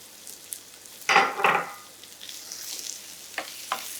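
Carrots hit a pan and start sautéing over medium heat for a carrot soup, giving a couple of sharp sizzling bursts followed by a soft, steady frying hiss with light stirring clicks.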